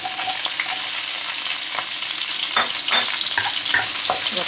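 Lamb stir-fries in sizzling oil in a wok, a loud, dense, continuous hiss with scattered crackles and scraping stirs of a utensil against the pan, close up and with no voices.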